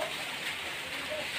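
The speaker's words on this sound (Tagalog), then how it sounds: "Kusog kay sa ulan." Heavy rain pours steadily at a distance, a soft continuous wash with no voices, quiet and even throughout.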